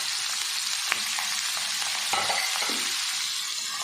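Coarse minced meat (keema), half a kilo, sizzling and frying with onions in a pan, a steady broad crackle with occasional stirring scrapes, close and continuous.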